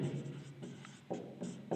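Pen or chalk writing out a physics solution, heard as a few soft scratchy strokes spaced over about two seconds, faint and close, with no talk.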